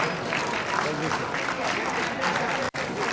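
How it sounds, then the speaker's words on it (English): Audience at a Greek community event applauding the Archbishop, a dense continuous round of clapping from a large crowd that holds steady for about three seconds before a brief drop near the end. "A round of applause for His Eminence"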